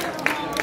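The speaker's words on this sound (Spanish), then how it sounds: "un aplauso por favor" A brief burst of steady audience applause for a prize winner at a Dragon Ball panel raffle during the Qomic Boom comic fair in Sant Cugat, a dense patter of clapping heard only for a moment.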